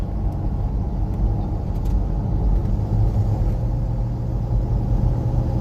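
A 2002 Toyota 4Runner SR5 4x4 with about 197k miles driving with the ECT power mode off, giving a steady low engine rumble and road noise heard from inside the cabin, with no talk.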